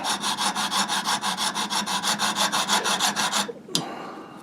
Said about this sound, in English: So I got this hacksaw, and like I said, it cuts really slow in this brass